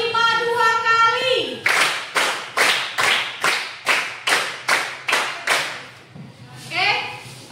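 Classroom of children clapping hands in a counted pattern, about eleven sharp, evenly spaced claps in a steady rhythm, loud and close, with a woman teacher's voice speaking just before and after.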